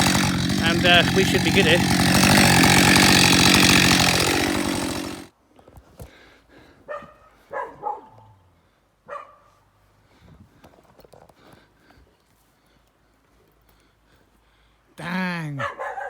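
A Husqvarna 550xp chainsaw cutting dead overhanging branches roars loudly and continuously for about five seconds, then cuts out, leaving faint scattered knocks and outdoor noises, a brief spoken remark and a short final burst of sound.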